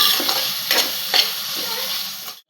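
Pav bhaji masala frying in a pan for kid-friendly khada pav bhaji, giving a steady close sizzle with a few spoon-stirring scrapes, and no talk.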